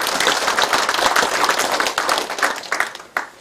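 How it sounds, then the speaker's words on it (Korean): An audience claps at a mayor's community meeting in a crowded hall, loud and near, with dense individual hand claps thinning out toward the end. "박수 한번 보내주시면 고맙겠습니다"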